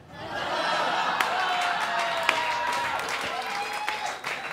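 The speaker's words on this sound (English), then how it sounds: "Thanks for the applause" Audience applause and some laughter at a stand-up comedy show, a steady wash of clapping from a crowd with a voice speaking over it throughout.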